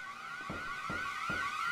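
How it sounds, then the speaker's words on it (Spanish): An alarm sounds in the horror game Devilry, a steady wailing electronic tone rising in pitch and layered over three evenly spaced low thumps, loud and continuous with no talking. "Una puta alarma y no sé qué pasó."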